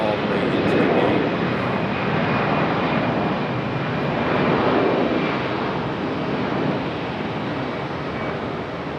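A Southwest airliner taxis in at Charlotte Douglas International Airport, giving a loud steady broadband engine roar that holds for the full nine seconds with only gentle swells.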